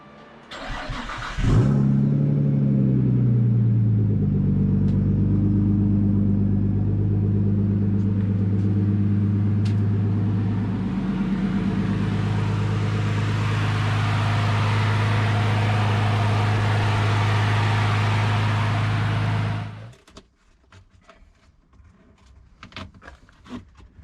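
A car engine turns over and fires up, then runs steadily at a loud, close idle for about eighteen seconds before shutting off abruptly, leaving faint clicks and rustling.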